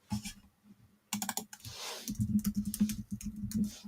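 Fast computer-keyboard typing during a live football watchalong stream, close and fairly loud, with bursts of rapid key clicks separated by a short pause and no talking.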